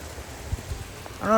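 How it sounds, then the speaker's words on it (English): Heavy rain pours during a strong thunderstorm with gusty wind in Frisco, Texas, a steady dense hiss with scattered thumps, and a voice begins speaking at the very end. "The rain's picking up."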